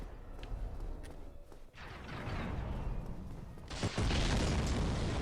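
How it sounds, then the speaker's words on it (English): Explosions in the video game Dark Souls roll out as dull, broad booms, one building through the middle and a louder burst near the end, heard fairly close with no talk over them. "The explosions here are incredibly, like, poor sounding."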